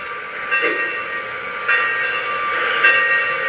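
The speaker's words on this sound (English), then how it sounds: "the sounds will come on. Whistle, bell, motion" A thin, reedy whistle from a TMCC model locomotive sounds in a few short blasts over a steady mechanical hum, close and fairly loud, with no talking.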